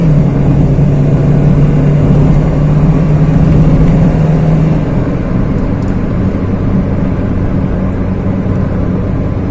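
A Toyota Yaris with automatic transmission cruises at speed, its engine a steady loud drone blended with road and wind rumble, holding a constant pitch throughout.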